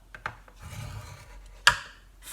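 A scoring tool draws a soft, rasping rub across the board material of a wax melt box. A few faint taps come first, and a sharper scrape sounds near the end, all quiet and close with no talk.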